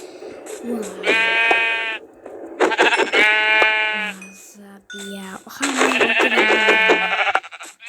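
Sheep bleat in Minecraft, three loud, quavering cries, each followed by short electronic tones, with voices talking in between.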